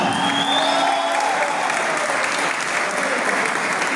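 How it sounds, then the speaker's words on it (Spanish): A gala-night audience in Caucete applauds after a dance performance, dense and sustained clapping that fills the room at steady volume from start to finish. "Ahora el aplauso, otra."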